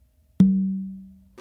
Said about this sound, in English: you're going to do an open with your dominant hand on the tumba to your dominant side.